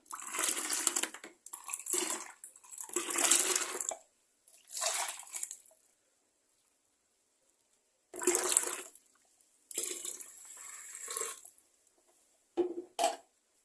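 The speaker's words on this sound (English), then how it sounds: "Add in some more water." Water is poured into a homemade local fruit wine mixture of yeast and sugar, coming as several separate splashing gushes with short pauses between them, fairly close and with no talk.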